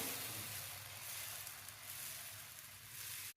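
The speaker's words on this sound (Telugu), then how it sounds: "బాగా పాన్ హీట్ అయిన తర్వాత మనం రుబ్బి పెట్టుకున్నటువంటి మినప్పిండిని వేసుకొని మంచిగా దోశ వేసుకోవాలి" Urad dal dosa batter spread on a well-heated pan gives a steady, even sizzle that hisses continuously at low volume and then stops abruptly at the end, with no voices.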